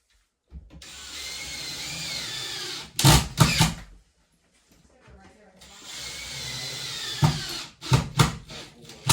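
A power drill drives screws into sheetrock in two long whirring runs, each followed by sharp knocks and handling clatter. The sound is close, with a voice briefly underneath.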